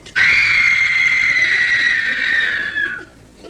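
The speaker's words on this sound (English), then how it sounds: "It was the scream of a woman totally terrified." A woman's long, sustained scream of terror, loud and close, holding one shrill pitch for about three seconds before cutting off, with no other sound around it.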